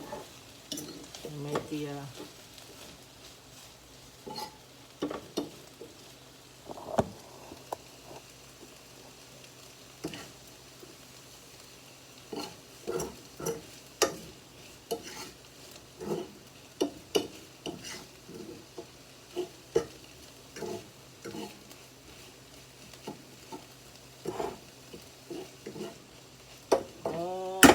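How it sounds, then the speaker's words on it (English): Vegetables for an organic vegetable soup sauté and sizzle in a pan, with a steady low hiss under frequent scraping and stirring clatter of a utensil against the pan, and brief speech at times. "I just want to saute this before I throw it in the pot"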